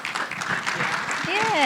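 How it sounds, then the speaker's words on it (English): Short burst of audience applause at an empowerment event, a moderate spread of clapping with voices and a bit of speech mixed in near the end. "Round of applause for that."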